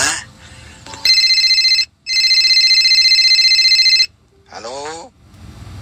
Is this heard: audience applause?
no